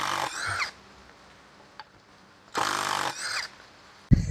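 A cordless 16V DCA ADPL16 impact driver running in high mode gives two short bursts of close, buzzing, rattling whir separated by a quiet gap, ending in a sharp knock.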